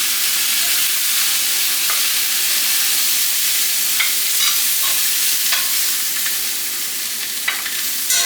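Meat sizzling and frying in a pan, a loud continuous crackling hiss with scattered pops and occasional scraping, close by and with no talk over it.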